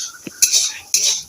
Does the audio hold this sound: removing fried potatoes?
yes